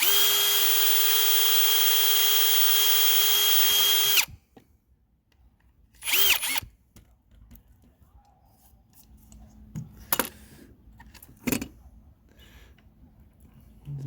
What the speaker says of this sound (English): I'm just going to try to widen this hole a little bit.